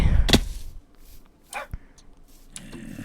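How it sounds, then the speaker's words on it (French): A small dog in a horror-modded video game yips a few times in short, separated barks, fairly close, with quiet gaps and a few clicks between them. "Oh, il y a un petit chien."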